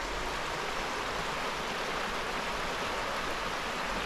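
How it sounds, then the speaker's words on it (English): A creek at a campsite near a river flows steadily, a broad, even rush of water heard close and alone, with no voices. "You got a creek right here."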